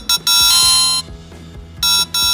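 A T58s GPS smartwatch for adults plays its ringtone at full volume: loud, bright electronic beeping bursts in a repeating on-off pattern over a steady tonal melody, close and with no speech.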